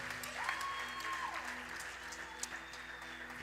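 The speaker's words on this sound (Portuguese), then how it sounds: "Dá um aplauso para Jesus" Congregation applauding in a church, a soft, steady patter of clapping at a distance, mixed with a low, steady hum and faint tonal sounds in the room.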